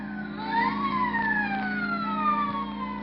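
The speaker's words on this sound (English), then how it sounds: "the police whistle and the prowl car siren serenade the sleeper" A police siren wails in long rising and falling sweeps over a low engine hum, steady and moderately close, with no voices.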